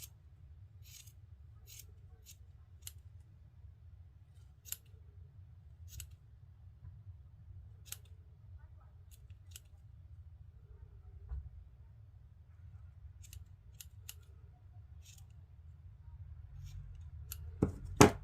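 Sharp scissors snip repeatedly at the cut ends of a yarn tassel being made for a crocheted bag, giving a string of close, crisp clicks at irregular intervals over a quiet low hum, with no talking.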